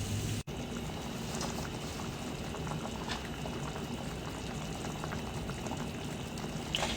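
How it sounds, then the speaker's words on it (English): Southern tomato gravy simmers in a pan, a steady soft bubbling and popping that carries on evenly from start to finish, close by and without any voice over it. "Now we're going to let this simmer until it thickens."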